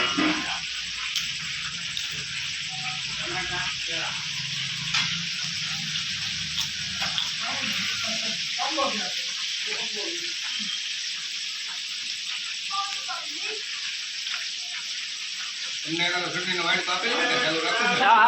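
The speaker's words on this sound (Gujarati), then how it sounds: "ગરમા ગરમ ભજીયા કેળાના અને મરચાના બની રહ્યા છે" Banana and chili bhajiya frying in hot oil give a steady hiss and sizzle throughout, with talk over it and a louder bubbling burst near the end.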